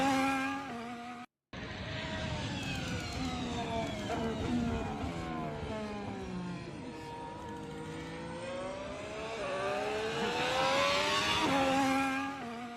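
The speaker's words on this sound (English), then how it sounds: "I've always liked Formula One cars' downshift sound." A Ferrari Formula One car's engine whines loudly as it downshifts, sliding through falling and rising pitches, with a short silent gap near the start.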